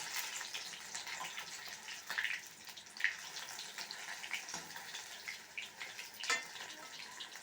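Pieces of bat fish fry in oil with a soft, continuous sizzle, close and fairly quiet, broken by occasional small pops and crackles.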